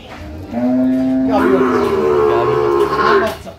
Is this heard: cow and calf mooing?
yes